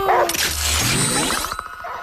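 Dog barking in the movie Prey: a short, loud, close bark amid dense, noisy film sound effects.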